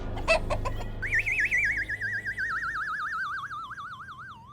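A human voice imitating an old hen: several quick clucks, then a long warbling, wavering cry that rises and trembles like a siren before trailing off.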